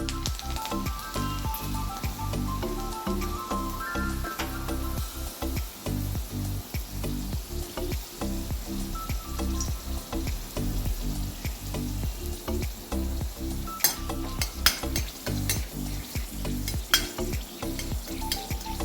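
Garlic fries in oil in a pan for Karnataka-style tomato chutney, making a loud, close, crackling sizzle throughout with a few sharper pops near the end.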